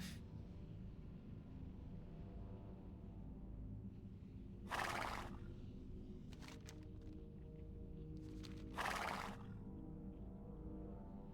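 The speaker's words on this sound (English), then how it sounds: "I like the horse sound." Horse neighing in World of Warcraft, a low, steady rumbling drone broken by two short, bright bursts of sound, fairly quiet, with no talk.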